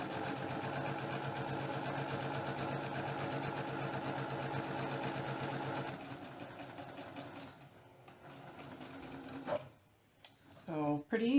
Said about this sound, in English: Lift the needle and the presser foot, scoot this over, and sew down the other side.